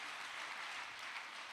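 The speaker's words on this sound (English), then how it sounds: "Let us give a hand clap to him wherever he is." Faint, distant audience applause for a pastor at a men's church conference session, an even wash of clapping with no other sounds.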